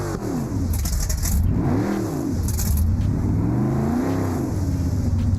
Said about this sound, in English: I just want to keep idling so I can hear it.